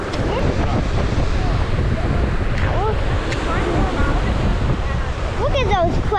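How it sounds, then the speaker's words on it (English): Ocean waves surging at Portland Head Lighthouse on a windy day, a steady loud wash of surf with heavy wind buffeting the microphone, while a voice talks in the background. "Look at those crashing waves in the ocean"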